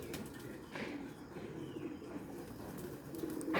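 Pigeons at a loft, including a stray bird among the flock, cooing softly and steadily throughout, with faint wing rustles in the background.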